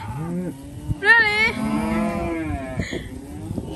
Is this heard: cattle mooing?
yes